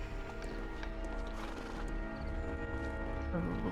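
Rhythmic hoof clip-clops of a horse in the game Sherlock Holmes: The Devil's Daughter moving at a steady pace, somewhat distant under a constant low rumble of background noise.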